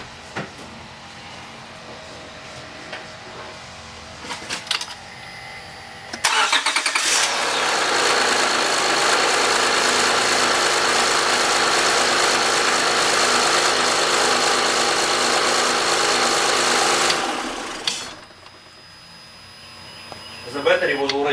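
A 2005 Honda Pilot engine, running on battery alone with the alternator disconnected after timing belt and water pump work, starts after some quiet clicking, idles loudly and steadily, then shuts off.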